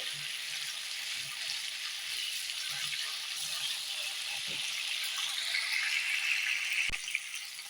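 Potato and cauliflower pieces fry in hot oil over a high flame. A steady, bright sizzle and crackle fills the whole stretch with no break.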